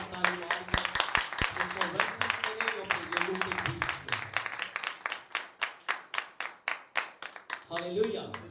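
Loud rhythmic clapping from a church congregation, a steady run of sharp claps lasting several seconds with a voice over the start, fading at the end.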